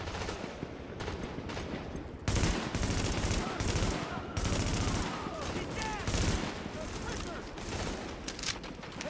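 Enemy gunfire in The Division, a third-person shooter, comes as repeated rapid bursts that crackle over a dense, busy battle mix at steady loudness, with a voice faintly present at times.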